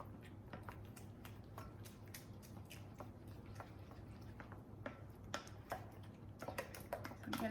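A mixing spoon works through calzone batter to break up lumps, giving quiet, irregular clicks and soft squishy taps close at hand over a low steady hum.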